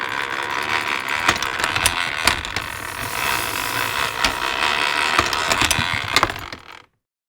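The hand crank of an antique Boutell Triumph apple peeler turns its gears in a continuous mechanical whir, loud and near, with regular ratcheting clicks throughout before it stops abruptly.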